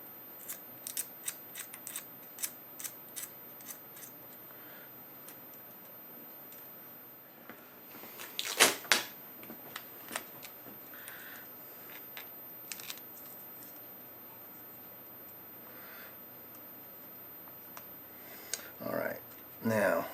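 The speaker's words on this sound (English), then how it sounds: "There's a varnish coating that's an insulator that needs to be removed, and I use a scraper." A scraper works the insulating varnish off a copper focus-coil wire from a PH548/AXT-2A TV camera, making sharp, irregular snipping clicks and scratches. They come in scattered bursts, with a louder cluster midway and more near the end.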